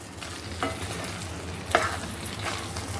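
Carrot halwa being stirred in a pan, a soft steady scraping and gentle sizzle with a few brief spoon knocks, close and fairly quiet, no voices.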